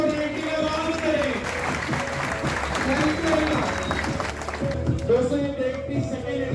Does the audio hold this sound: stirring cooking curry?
no